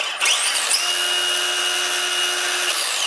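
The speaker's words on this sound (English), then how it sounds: "It's got that lovely smooth brushless whine." Steady high-pitched brushless motor whine from a Tamiya Dual Ridge RC car, spinning up sharply and holding a smooth, even tone close by before cutting off, with no talk.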